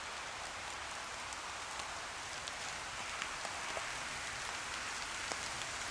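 Rain falls steadily on trees in Sherwood Forest, a soft hiss of patter with occasional sharper drips landing nearby; no voices.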